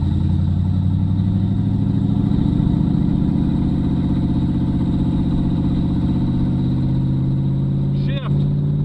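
Small block V8 swapped into a 2006 GMC Envoy, running while the SUV drives, a steady loud low engine drone with a strong rumbling hum held throughout and a brief knock near the end.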